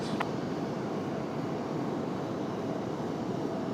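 An Aer Lingus airliner from Dublin at Raleigh-Durham airport gives a steady, loud broadband engine roar that holds evenly throughout, alone with no voices.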